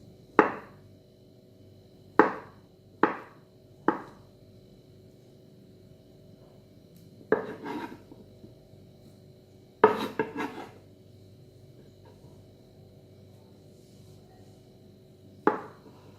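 Boiled potatoes are cut on a board for channa chaat, with about eight sharp, separate knife taps coming in irregular clusters between quiet pauses.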